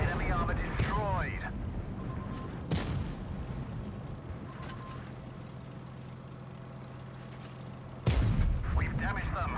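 Tank cannon shots boom in the World of Tanks Blitz video game, a few sharp blasts spread across the stretch and the loudest near the end, under lively commentary and in-game voice callouts.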